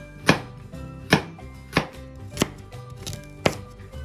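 A knife chops vegetables into large slices on a cutting board, five or six firm, evenly spaced thuds over a faint background, close by with no voices.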